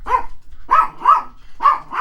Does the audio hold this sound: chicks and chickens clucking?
no